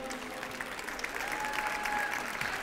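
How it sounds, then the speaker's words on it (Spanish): Collective applause at an architecture graduates' 25th anniversary graduation ceremony, a broad steady clapping from the hall that swells slightly toward the end, moderately distant and even. "hacemos un aplauso colectivo"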